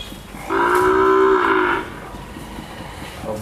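A Sahiwal bull calf at a cattle farm gives one loud, drawn-out moo lasting over a second, close to the microphone, with quiet farm background before and after.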